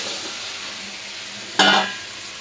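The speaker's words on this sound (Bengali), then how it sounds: "মশলাটা কষানো হয়ে গেছে, এখন সবজিগুলো দিয়ে দিব।" Cut potatoes and pointed gourd dropped into a pan of cooked-down spice paste in a village kitchen, a soft low hiss before a sudden loud sizzle burst that flares and then gradually settles.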